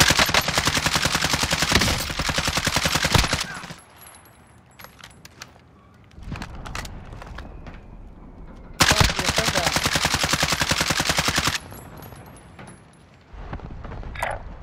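Rapid automatic gunfire in the Call of Duty Warzone video game, two long loud sustained bursts with sparser single shots and mechanical clatter in between, no clear talking.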